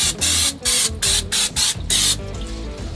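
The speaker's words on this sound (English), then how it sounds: "I am gonna put some Pam. I'm just gonna spray it." Pam cooking spray is sprayed onto grill grates, heard as five or six close hissing bursts in quick succession, each about a quarter second long with brief gaps between them.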